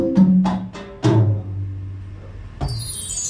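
Percussion sounds triggered from a Roland V-Drums pad: a quick series of sharp struck hits with ringing tails, a lower sustained tone, then a bright shimmering chime-like hit near the end, close and clear.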